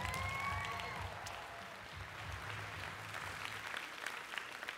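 Audience at a live magic show applauding, a steady wash of clapping from a moderate crowd that holds through and slowly thins, heard from a distance in a hall.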